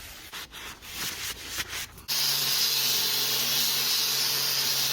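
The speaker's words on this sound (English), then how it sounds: "Last step is just to coat the handle in some WD-40 just to prevent it rusting." WD-40 is sprayed onto an axe handle in a steady, close, loud hiss that begins abruptly and runs unbroken, preceded by a couple of seconds of rubbing and scuffing.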